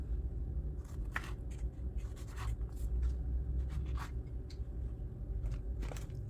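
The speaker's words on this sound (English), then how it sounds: "chop them down into little bite-sized pieces" Strawberries being chopped into bite-sized pieces, soft knife cuts with irregular taps over a low steady background hum, no speech.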